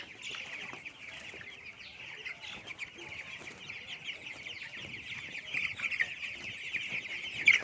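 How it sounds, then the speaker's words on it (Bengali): Many 29-day-old broiler chicks on a farm cheeping together in a steady, dense chorus of high chirps, close by, continuous throughout with slight rises near the end. "এই হলো আমার ব্রয়লার মুরগির বাচ্চা"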